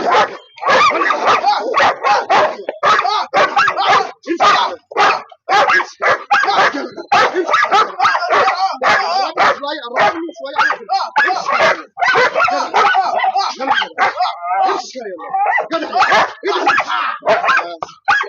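A dog barking repeatedly at close range, sharp loud barks and yips in rapid bursts with brief pauses, mixed with whimpers.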